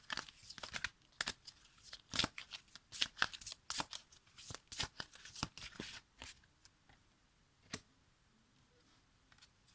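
Tarot cards shuffled and handled by hand, a fast run of crisp riffling slaps and flicks that come in irregular bursts up close, then thin out toward the end, with no talking.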